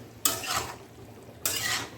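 Ivy gourd curry is stirred in a pan, with two short scraping sweeps of a spatula over a soft background sizzle, each stroke rising sharply and fading.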